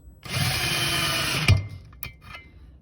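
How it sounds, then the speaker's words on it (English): A power drill whirs steadily for over a second during an engine teardown, then stops with a clunk, followed by a couple of faint clicks. "And then now I'm using my drill."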